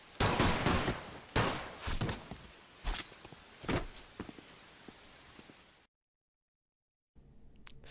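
Gunfire in the Mafia 2 video game as Vito is shot: about six sharp, loud shots spaced irregularly, followed by a sudden drop to silence and then faint ambient sound.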